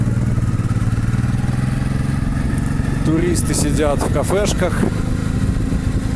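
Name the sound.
Honda motorcycle with sidecar engine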